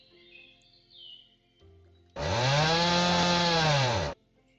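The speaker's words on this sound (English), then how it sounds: "I think it's going to be time to break out the chainsaw" Chainsaw revving hard while cutting down trees on a ranch farm in a video game, a loud steady roar lasting about two seconds after a quieter lead-in with faint bird calls.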